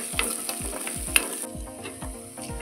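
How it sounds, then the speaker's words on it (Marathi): Chopped onion and curry leaves frying in a pan for vermicelli upma, a steady crackling sizzle broken by repeated scraping strokes of a spoon stirring, close and moderately loud. "हे सगळं व्यवस्थित भाजून घेऊया।"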